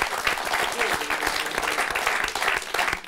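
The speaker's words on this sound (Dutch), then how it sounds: "Ja, dus even genieten van dat applaus." A crowd at a Frisian evening show gives a steady round of applause, dense, close clapping with individual claps standing out, continuing evenly throughout.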